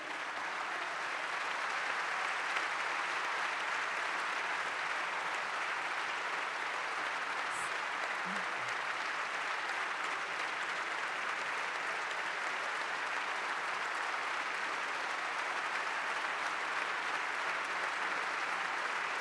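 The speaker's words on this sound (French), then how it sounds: "Je vous demande peut-être de l'applaudir, Christophe de Margerie" Long, sustained applause from a large audience at a closing plenary session of a business conference, a dense, even wash of clapping that holds steady for nearly twenty seconds.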